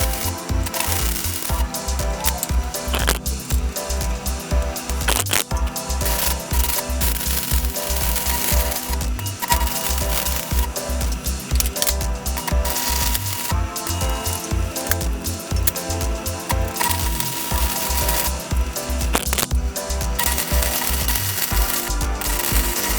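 Metal pieces being cut on a ratrod dually truck during a 460 engine swap, heard as a loud, continuous grinding and rattling mechanical roar with steady rhythmic pulsing throughout.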